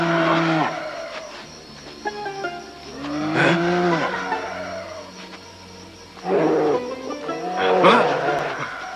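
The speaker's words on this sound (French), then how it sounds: "Ça doit être un ours." A bear growls at a summer camp: several deep, drawn-out roaring groans come in separate loud bursts, with short pauses between them.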